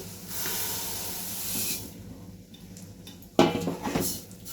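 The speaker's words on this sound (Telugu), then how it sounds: "సో రైస్ యాడ్ చేస్తున్నాను ఇప్పుడు" Rice tipped into a hot pan of fried ingredients while making coconut rice as a festival offering: a steady hiss and faint scraping, then a sudden louder clatter and crackle near the end.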